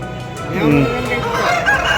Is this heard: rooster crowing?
yes